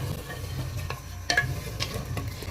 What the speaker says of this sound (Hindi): अब मैं इसको अच्छे से भून लूँगी